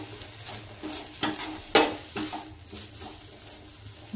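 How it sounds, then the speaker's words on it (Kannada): Ridge gourd fries in oil in a pan for chutney, with a soft continuous sizzle and a few sharp scrapes and knocks of a spoon stirring against the pan. "ಚೆನ್ನಾಗಿ ಫ್ರೈ ಮಾಡ್ಕೊಳ್ರಿ"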